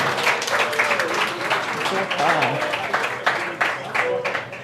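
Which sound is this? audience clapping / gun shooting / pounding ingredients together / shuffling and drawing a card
audience clapping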